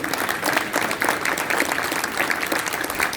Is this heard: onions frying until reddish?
no